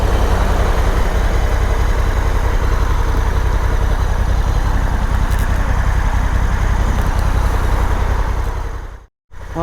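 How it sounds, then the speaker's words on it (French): Honda Africa Twin motorcycle with DCT gearbox, new and still being run in, idling with a steady low engine and exhaust rumble for several seconds, then a brief dropout near the end; no speech. "Moi, j'aime bien le bruit du pot quand même"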